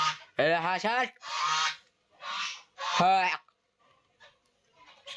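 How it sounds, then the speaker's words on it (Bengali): A duck call in a bus driving video game: a few loud honking quacks in separate bursts with short silent gaps, then quieter sounds trailing off. "হাঁস ডাকছে।"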